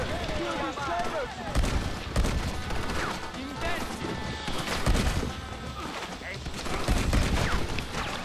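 Gunfire in Red Dead Redemption during a battle in which the Mexican Army turns traitor, with rapid overlapping shots and bursts packed throughout at fairly steady loudness, mixed with game voices.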